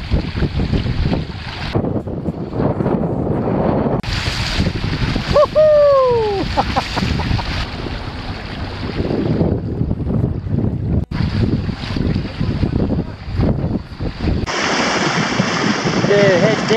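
A strong 30-knot northwesterly wind buffets the microphone on a small Hobie sailboat, with water sloshing and waves washing past, and brief voices and squeaks come and go throughout.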